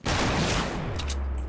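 Sniper rifle fire in the Fortnite video game, a loud close crack with a rolling echo that trails off over about a second.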